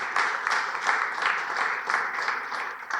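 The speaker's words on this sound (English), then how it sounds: "Please give him a big round of applause." Audience applause greets a speaker called up on stage at a business conference, a steady wash of many hands clapping at moderate volume, fairly even with no voices standing out.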